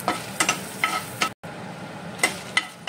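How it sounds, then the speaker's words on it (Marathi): Chilies roast in a pan, giving a soft continuous sizzle broken by several sharp clinks and scrapes of a utensil stirring, with a brief moment of silence midway. "हांव हे चिलीज घालता. चिलीज मातशे रोस्ट करता"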